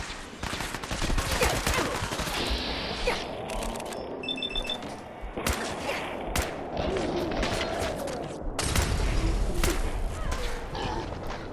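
Gunfire rattles through a shootout with Gunners in the video game Fallout 4, with dense bursts and single shots over game sounds and a short electronic beeping tone, fairly loud and continuous.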